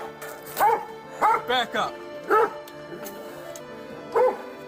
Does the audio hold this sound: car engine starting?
no